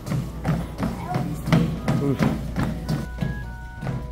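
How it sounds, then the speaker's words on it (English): An elliptical trainer runs at home with a steady series of rhythmic thuds and taps repeating about twice a second, under excited family voices. "You hear that elliptical going backwards or forward?"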